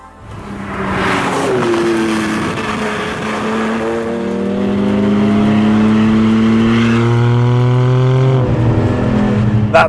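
A Porsche 718 GT4 fitted with a new Litchfield exhaust accelerates on track, its engine note climbing steadily through rising revs, loud and close with no voices.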